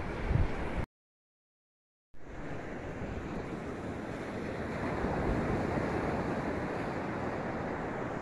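Waves wash steadily along the shoreline at Constance Beach, a broad continuous surf roar with wind buffeting the microphone, briefly cut to silence near the start before resuming and swelling slightly.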